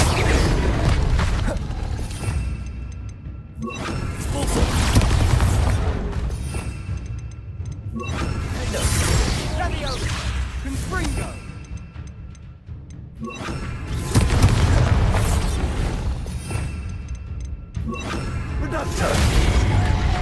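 Confringo fire spells explode in Hogwarts Legacy: several booming blasts arrive roughly every few seconds, each a loud burst that swells and fades, with a voice speaking between them.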